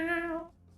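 A cat gives a single clear meow, close and fairly loud, fading out after under half a second.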